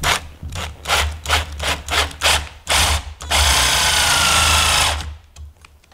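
A drill bores a screw hole in a wooden stool part. A series of short whirring bursts is followed by one longer sustained drilling run, all close and fairly loud, with no talk.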